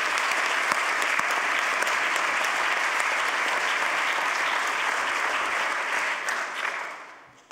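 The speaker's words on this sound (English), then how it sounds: "let's give these people a hand as well" Audience at a closing conference plenary applauding the helpers, dense, sustained clapping from a large crowd that holds steady for several seconds, then tapers off at the end.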